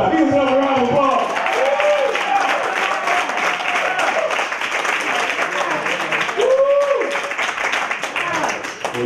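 A crowd at a poetry show claps and cheers, a steady close wash of applause with voices shouting and talking loudly over it the whole time.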